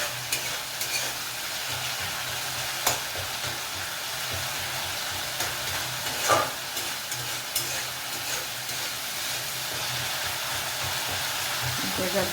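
Continuous close sizzle of banana flower curry frying in oil, with occasional scrapes and knocks of stirring breaking through the steady hiss, and no speech.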